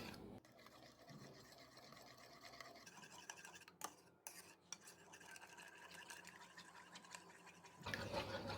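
Egg and milk are whisked together in a bowl, giving a quiet, rapid scraping and tapping of a utensil that continues steadily, with a louder rustle near the end.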